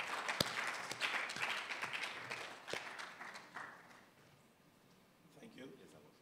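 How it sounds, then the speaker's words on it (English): Applause for a speaker welcomed on stage at an architects' annual general meeting, scattered claps with a few sharp louder ones that die away into quiet room noise as talking begins. "Please welcome him with a big round of applause"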